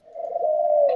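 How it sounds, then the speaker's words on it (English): A single steady cooing note from a pet bird, held for about a second with a brief rise at the end, close and fairly loud indoors while other birds are active nearby. "Birds are going nuts."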